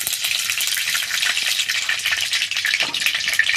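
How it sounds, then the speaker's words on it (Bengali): Mustard oil in a hot wok gives off a bright, busy sizzle with constant fine crackling, close and steady throughout, with no voices. "কড়াটা ভালোভাবে গরম হয়ে গেছে, কড়ার মধ্যে দিয়ে দেবো সর্ষের তেল।"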